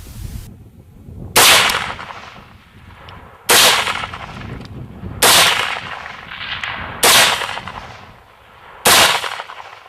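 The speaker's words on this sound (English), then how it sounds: "The Deadeye gives a shooter an opportunity to accurately deliver a high volume of rapid fire on multiple targets, shot after shot." Rifle fired from a Hyskore Deadeye recoil-absorbing rifle rest, five loud sharp close shots spaced about two seconds apart, each with a ringing decay and echo, with no talking.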